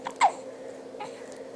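A baby girl gives a single short, sharp hiccup, close and fairly quiet, with a faint second hiccup-like catch shortly after against a quiet room.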